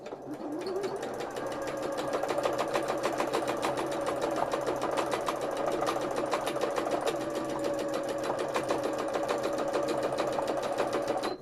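A sewing machine stitches free-motion embroidery on hand-painted fabric, running in a fast, steady, close mechanical rattle that barely changes for the whole stretch, with no voices over it.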